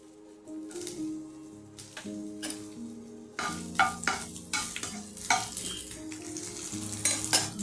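Chopped onions fry in about one and a half spoons of oil in a hot kadai, with a steady sizzle and repeated stirring scrapes close up, during cooking of chicken keema for stuffed eggs.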